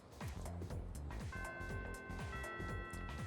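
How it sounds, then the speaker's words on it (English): A school bell chime in the video game Persona 3 Reload, a bright sustained bell tone entering halfway through and ringing over a steady rhythmic background music track. "The first bell has rung."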